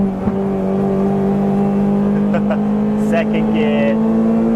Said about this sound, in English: That K20 just wants to rev, and I am not revving it at all.